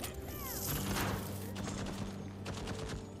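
An automated turret in Deathloop fires a dense, continuous burst of rapid shots, loud and sustained across a busy mix of game sounds.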